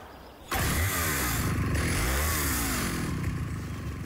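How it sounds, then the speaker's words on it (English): A Husqvarna XP chainsaw starts abruptly after a brief quiet moment, then runs loud and steady with rising and falling engine revs, close up and alone. "how can an XP chainsaw from Husqvarna help you work both faster and safer?"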